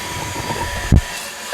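Orfeld WB08 cordless vacuum cleaner running steadily as it sucks up chunks of drywall and tile, with a brief rattling clatter as debris goes through the nozzle.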